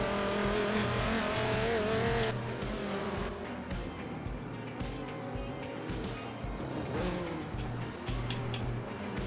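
Race cars circle the Rio de Janeiro track in Forza Motorsport 7, a steady layered engine drone with revving and passing cars, continuous and moderately loud throughout.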